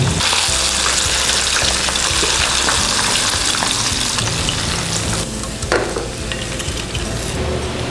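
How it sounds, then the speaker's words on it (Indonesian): Whole fish deep-frying in hot oil until crispy, a loud continuous bubbling sizzle up close that stays steady throughout, with no talk. "Pastikan kita menggoreng seluruh bagian ikan ini sampai crispy supaya nggak mudah patah"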